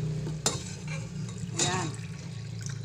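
Curry powder being stirred into a Filipino snail (suso) dish sautéed with tomato and shrimp paste in a pan, close scraping and stirring with a faint sizzle and a couple of sharp utensil knocks, with no talk.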